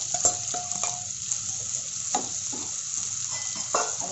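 Onions sizzle in hot oil with cumin as they go into the pan for a paneer curry, a steady close hiss with a few stirring scrapes and clinks, no voices.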